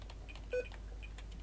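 Electronic beeps and tones, like keys pressed on a computer keyboard while playing Minecraft, sound out in a quick run of short, separate pitched blips, moderately loud and close.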